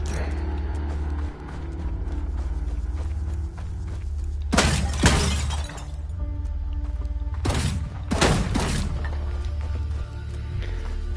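Gunfire in the VR shooter The Foglands, two loud broadband bursts standing out from a steady low rumble of game ambience, each a short cluster of sharp shots with no voices present.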